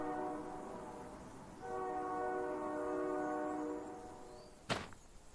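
A train in a horror video game sounds a long droning horn that swells at mid-length and fades, followed by a sharp, sudden thunk near the end, with no talking.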